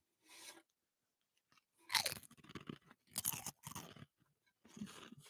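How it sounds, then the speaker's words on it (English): Pringles potato chips are crunched right at the microphone in several loud, close bursts of crisp chewing, separated by brief silences. "Crunching potato chips into the mic."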